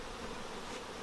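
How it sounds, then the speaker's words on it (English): Honeybees buzzing around a hive feeder during autumn feeding, a steady, close, continuous hum with no talk over it. "The bees can get up and get at that"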